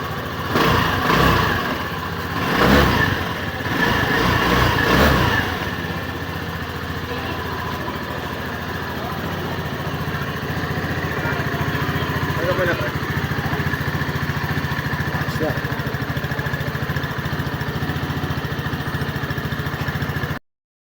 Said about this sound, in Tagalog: ito yung click kanina na nilinisan namin yung throttle body niyan, tsaka nireset namin yung ECU